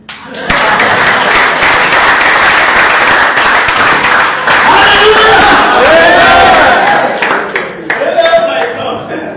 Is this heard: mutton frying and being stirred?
no